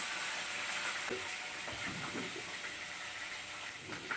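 Curry leaves, dried red chillies and onion fry in hot oil with mustard seeds, giving a steady, dense sizzle throughout with small crackles and pops and no voices.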